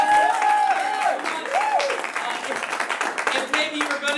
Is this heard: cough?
no